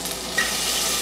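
Garlic frying in olive oil for a fish tagine, a steady soft broadband sizzle running for about a second, with a brief louder bump early on, no voices.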